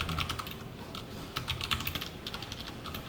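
Computer keyboard typing as code is entered, a quick uneven patter of key clicks close by, with no talking.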